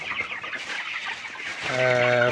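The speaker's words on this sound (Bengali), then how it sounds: "520 পিস মুরগি, পোলট্রি মুরগি, আপনারা ব্রয়লার মুরগিও বলেন।" A flock of 520 broiler chickens cluck and murmur together at night on a poultry farm, ending in one longer, drawn-out tonal call that rises above the flock.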